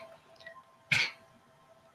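A small orange cat gives a single sharp sneeze, close and fairly loud, about midway through an otherwise quiet moment.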